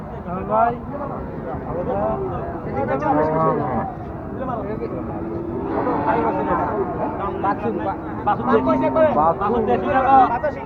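Cattle at the Ambari cow market, with repeated deep moos and lowing from several animals nearby amid constant crowd chatter and people talking.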